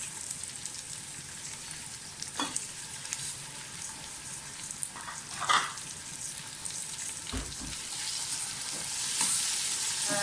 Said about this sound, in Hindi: चीज़ों को थोड़ा सा फ्राई करें और साथ ही टमाटर डाल दें।